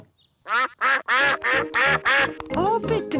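Cartoon ducks quack in a rapid run of short, loud, nasal calls near at hand, with a brief spoken phrase at the start.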